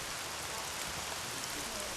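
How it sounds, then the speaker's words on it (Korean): Steady, dense rain pours down during the rainy season in Burundi, a constant hiss of drops on surfaces that fills the scene without pause. "우기라 비가 오는 게 당연하지만 비가 올 때마다 아빠는 시름이 깊어집니다."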